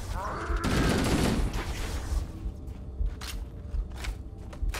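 Gunfire in Halo: Combat Evolved Anniversary: a dense burst of rapid shots opens the clip, then scattered sharp reports and clatter follow at varying distances.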